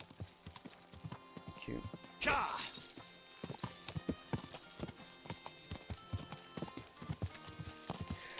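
Horse hooves clip-clop in Kingdom Come: Deliverance, a steady run of hoofbeats close by throughout, with a louder crash-like burst partway and a voice speaking briefly over the sound.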